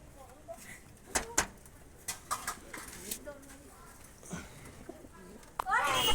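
A pair of Lotan pigeons with big feathered feet, kept at a pigeon sale, cooing softly in short, scattered bursts amid faint background noises and occasional knocks.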